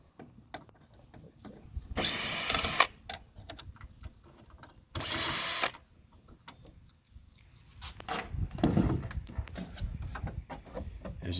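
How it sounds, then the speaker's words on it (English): A power driver with a size 10 Torx bit removes the screws on a 2023 truck's tailgate cover, sounding as two loud whirring bursts of about a second each with quieter handling noise between and after. "What size torque bit is that, Jim?"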